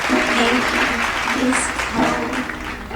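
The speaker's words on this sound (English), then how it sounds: "Let's give her a round of applause." Audience applause greeting a singer as she takes the stage at a Las Vegas entertainment show, loud, dense and sustained for the full stretch, with a cheer rising over the clapping.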